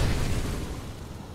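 A molotov cocktail lands and bursts in the CS:GO video game, a single loud, dull whoosh and rumble that starts at full strength and fades over about a second.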